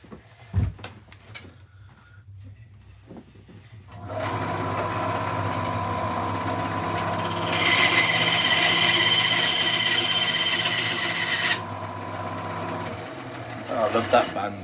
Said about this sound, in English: Love that bandsaw. So cool.